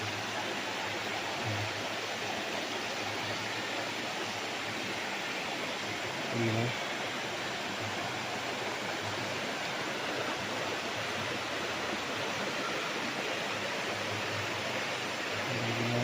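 Steady rushing water fills the air without a break, a broad continuous roar like a flowing river, loud and close throughout.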